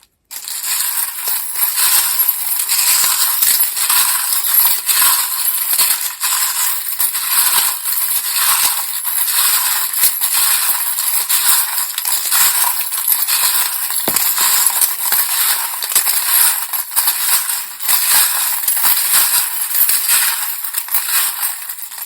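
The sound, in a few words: tarot charms and dice being shuffled and dropped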